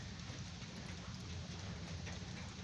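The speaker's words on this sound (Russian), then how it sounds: "практически все это время шел дождь, но местами сильный, местами не очень" Steady summer rain falls in a village on a windy July morning, making an even, close hiss that continues unbroken with no voices.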